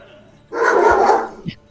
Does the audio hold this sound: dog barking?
yes